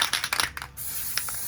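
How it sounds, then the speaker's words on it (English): Silver spray paint sprayed from an aerosol can onto wreath pieces, with a few quick rattles and clicks followed by a steady, close hiss. "I'm going to be spray painting these in the silver"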